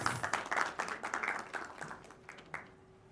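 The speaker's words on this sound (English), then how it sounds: "Please welcome him with a huge round of applause." A crowd applauding, dense clapping that swells early and then thins and fades toward the end, with a few scattered claps lingering.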